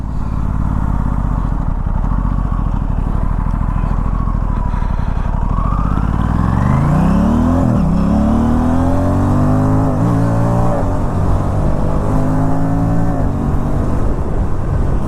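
An Aprilia RS 457 motorcycle pulls away on a chilly night ride, its engine idling with a rough low patter, then revving up hard through rising pitch sweeps and shifts, loud and close.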